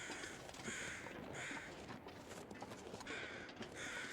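Crows cawing in the survival game The Long Dark: several hoarse caws repeat in uneven bursts over a steady wind-like hiss, fairly close and clear, with no talking.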